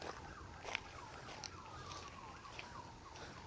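Sirens wail faintly in the distance, their rising and falling tones drifting over a low outdoor background hum.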